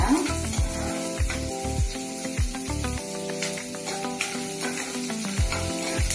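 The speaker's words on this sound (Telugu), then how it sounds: "ఉల్లిపాయలు కొంచెం బ్రౌన్ అవ్వాలన్నమాట." Chopped onions sizzle and fry in a pan, a steady close hiss broken by repeated scraping stirs, while a voice speaks faintly in the background.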